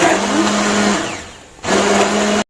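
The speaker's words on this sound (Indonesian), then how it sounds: "Kita blender semuanya ini ya, sampai agak sedikit halus, jangan terlalu halus ya." An electric blender grinds roasted coriander and cumin spices with a loud, steady whirring hum, pausing briefly partway and restarting before cutting off abruptly, close up and alone.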